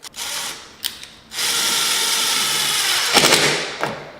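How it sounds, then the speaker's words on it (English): Cordless drill whirring as it drives screws into a dolly, two short bursts followed by a longer sustained run that ends in a couple of clicking pulses, close up and alone. "you can utilize a drill. Just make certain that you don't over drill and strip as you impact these screws into the dolly"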